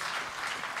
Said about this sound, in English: clap for Bud Powell